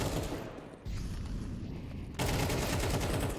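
Gunfire in the video game Counter-Strike 2, a dense, loud fusillade of rapid shots with a brief dip in intensity before a heavier burst takes over for the rest of the clip.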